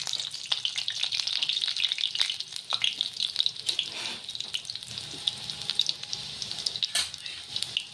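Thinly sliced garlic cloves, three or four of them, sizzle in hot oil in a pan, a steady crackling hiss with occasional sharper pops and spatters running throughout, fairly close and with no talking.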